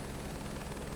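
A helicopter flies in Microsoft Flight Simulator 2024, giving a loud, continuous rotor and engine roar with a rapid steady chop throughout.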